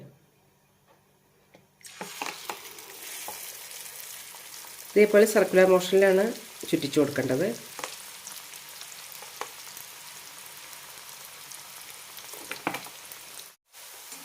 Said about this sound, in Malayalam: ചൂടായ എണ്ണയിലേക്ക് ഒഴിക്കാം.